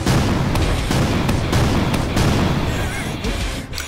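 Heavy cannon blasts in a Roblox video game boom in quick succession, loud and dense, with someone talking underneath.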